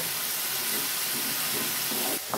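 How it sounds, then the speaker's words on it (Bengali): Spice paste with turmeric and chili powder and a little water frying in a pan, a dense continuous hiss and sizzle, close and loud throughout, ending with a brief stir. "মশলাটাকে ভালো করে কষিয়ে নেব।"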